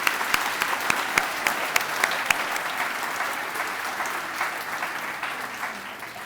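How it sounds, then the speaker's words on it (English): An audience applauds elected officials at a town address, with steady, dense clapping that holds at an even level for several seconds, then eases slightly toward the end, with no voices over it. "Round of applause for our elected officials"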